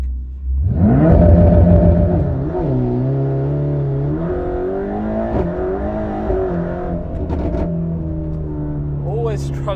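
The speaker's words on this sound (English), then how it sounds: "Launch control on the GT Black." A Mercedes-AMG GT Black Series on a launch-control start surges from near silence into a loud, sustained engine roar that climbs through the revs with brief dips at gear changes, heard up close from inside, while a person speaks over it.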